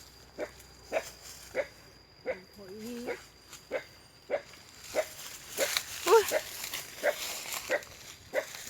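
A dog barks repeatedly in a steady series of sharp, moderately close barks outdoors while red ant nests are gathered, with a person speaking briefly partway through.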